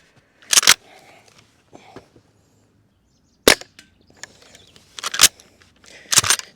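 Barra 1866 CO2 cowboy rifle firing, four or five sharp, loud gas-powered cracks spaced irregularly, each followed by faint mechanical clicks of the lever action between shots.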